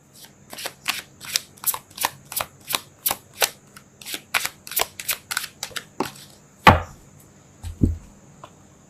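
Tarot cards are shuffled and pulled, giving a steady run of crisp, close snaps at a regular rhythm, then a louder slap and a softer final tap as the cards settle.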